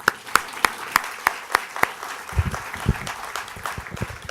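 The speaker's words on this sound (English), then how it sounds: "One more round of applause." An audience at an education summit keynote applauds, beginning with a few evenly spaced, sharp claps that give way to looser, overlapping clapping.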